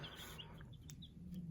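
Baby chicks peep and chirp softly in a box indoors, several small high calls scattered over a steady low hum, with no talking.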